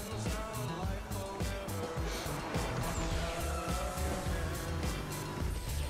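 BMW M3 from Need for Speed Underground 2 racing in a trailer, its engine roaring steadily with tire squeal and skidding under loud music, while a viewer talks excitedly over it.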